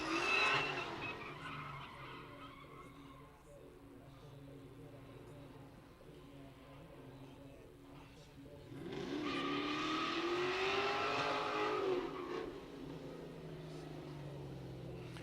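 A bright red LS-swapped 240 drift car running in the pit at a drift event, its engine droning at moderate distance and swelling into a louder revving pass with tire noise.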